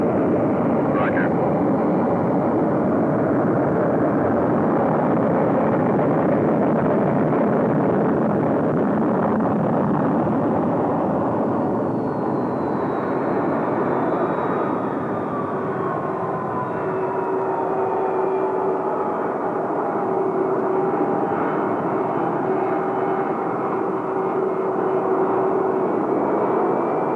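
A North American F-107A Ultra Sabre jet taxiing for takeoff, a loud continuous roaring whine with steady engine drone throughout, with a radio voice faintly beneath it.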